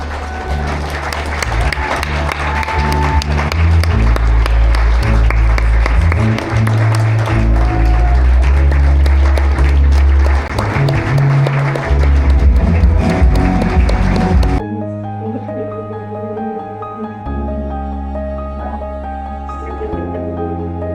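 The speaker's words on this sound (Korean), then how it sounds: "다시 한번 뜨거운 박수로 성원해 주시기 바라겠습니다" Wedding guests applaud during the bride and groom's recessional march, steady dense clapping mixed with crowd noise and loud music for about fifteen seconds, then the clapping fades and the music carries on alone.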